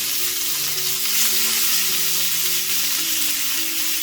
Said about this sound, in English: So now I'm going to grill the lamb chops on both the sides on high heat.